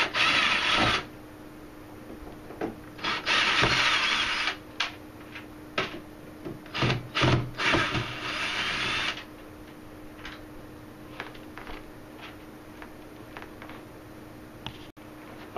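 Screws coming out of a metal grill on a Peavey PV215 speaker cabinet, ratcheting mechanical whirs and clicks in close bursts, busy early and then trailing off to sparse ticks, no talking.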